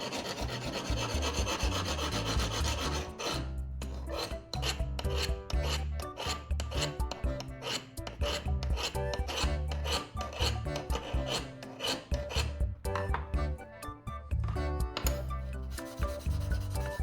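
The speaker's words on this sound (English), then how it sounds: "The file allows for precise shaping of the edge." A metal file rasps repeatedly across the blade edge of pruning shears, loud and close, in quick uneven strokes with no voices.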